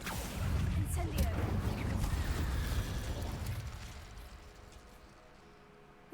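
Incendio fire spell bursting in Hogwarts Legacy, a loud rumbling whoosh of flame that swells and then slowly fades over several seconds, with no talk over it.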